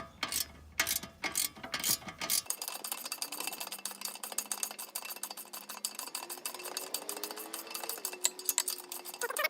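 A ratchet wrench tightening bolts on a Jeep JL Rubicon, a fast continuous clicking that follows a few louder clunks at the start, close and fairly quiet.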